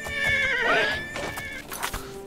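A horse in the video game Oblivion gives a loud, close whinny with a wavering, falling pitch, followed by a few shorter snorting and hoof-like sounds.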